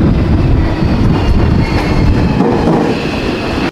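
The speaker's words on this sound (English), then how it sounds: "The train's coming!" A train pulls into a small, quiet rural station in the Japanese countryside in winter, a loud close steady rumble of wheels and carriages rolling past without break.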